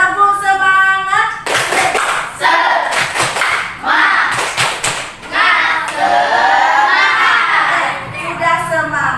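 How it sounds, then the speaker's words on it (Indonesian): Children in a classroom clap in unison for a rhythmic spirit chant, a teacher's voice leading at the start before bursts of group clapping and chanting voices fill the room, loud and close. "kita tepuk semangat lagi yuk. Tepuk semangat."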